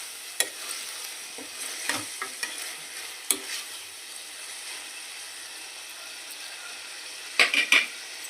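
Tomatoes frying in a pan for a tomato curry are stirred, giving a soft continuous sizzle broken by scattered spoon clicks and scrapes, with a cluster of louder metallic knocks near the end.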